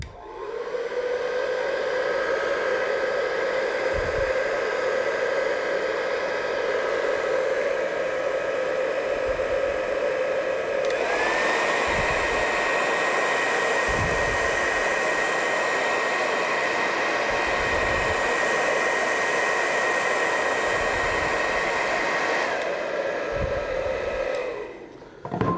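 A heat gun blows steadily onto painted vinyl, a loud continuous whooshing hiss with a tonal whine that steps up in pitch partway through, then cuts off at the end; faint thumps sound underneath.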